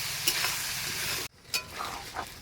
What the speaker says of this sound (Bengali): এবার লবণ দিয়ে ভালো করে পেঁয়াজটাকে ভেজে নেবে।